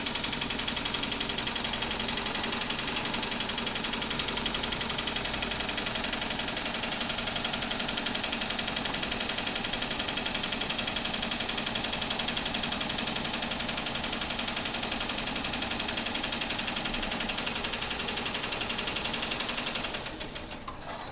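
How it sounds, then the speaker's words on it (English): Embroidery machine stitching a butterfly appliqué outline, a steady, dense mechanical rattle of rapid needle strokes that runs loud and unbroken for about twenty seconds before slowing at the very end. "And the first outline will sew out."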